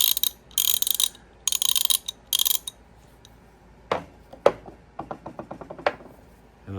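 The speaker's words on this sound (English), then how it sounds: "I picked up these two ratchets." Thumb wheel ratchets, one 1/2 inch and one 3/8 inch, are handled, with bursts of rapid ratcheting clicks at first, then scattered sharp single clicks and taps close by.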